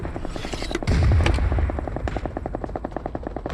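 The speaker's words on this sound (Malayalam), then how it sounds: "വേറൊരു ഹെലികോപ്റ്ററാടാ" A helicopter's rotor thumps rhythmically up close in BGMI, with a burst of gunfire and a heavy boom early on.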